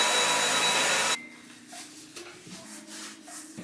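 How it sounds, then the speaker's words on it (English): A vacuum cleaner runs loudly on carpet for just over a second and then cuts off, leaving a low motor hum winding down with faint shuffling and handling noises. "so I vacuum."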